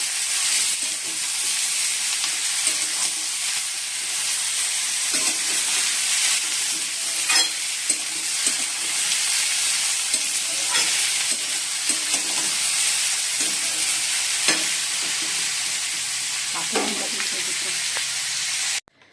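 Potatoes fry in hot oil in a kadai wok, giving a steady, loud, close sizzling hiss that runs unbroken from start to finish, with a few soft stirring clicks and faint background voices.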